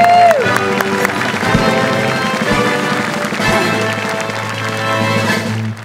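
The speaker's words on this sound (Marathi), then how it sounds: "एकदा जोरदार टाळ्या अन्विता मंदारसाठी झाल्या पाहिजे" Studio audience applause and cheering for a comedy pair on a Marathi comedy show, a loud sustained clapping wash with music-like tones underneath throughout.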